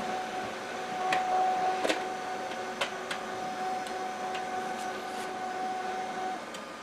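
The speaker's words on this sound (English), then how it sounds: "while I wasn't looking, it started printing something else" An HP LaserJet 5P laser printer runs steadily with a continuous mechanical hum and whir, broken by a few sharp clicks and ticks as paper feeds through, close and moderately loud with no talking.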